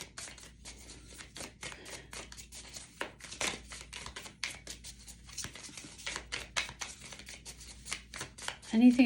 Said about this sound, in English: I'm shuffling them the wrong way.